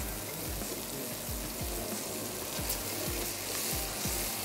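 Chana dal and meat masala for chana dal gosht sizzles and fries in a pan over raised heat, a soft continuous crackle with repeated low scraping knocks of stirring, fairly quiet and without talk.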